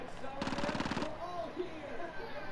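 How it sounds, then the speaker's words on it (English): A Vector submachine gun in Call of Duty Modern Warfare fires one rapid, buzzing burst of about half a second, close and loud, with in-game chatter and ambience around it. "I'm gonna shoot this vector real quick"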